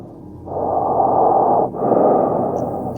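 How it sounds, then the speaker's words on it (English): Heavy breathing right outside a window, a single long breathy exhale-like rush that stops briefly and then resumes, fairly close and steady, with no voices. "there was the sound of someone's heavy breathing right outside one of the many windows in the room"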